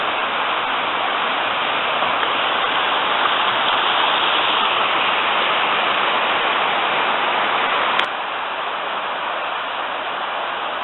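Steady, dense rush of a river pouring through a rocky gorge at Ffestiniog, Wales, continuous and loud with no voices.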